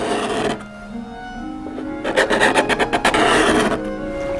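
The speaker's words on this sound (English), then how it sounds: "pulling it along the bead, and it makes nice shavings, and getting it nice and rounded over" A wooden hand plane is pushed along a bead on the top molding of a Townsend kneehole bureau, curling off shavings. It makes a quick run of rhythmic, close, scraping rasps with no voice.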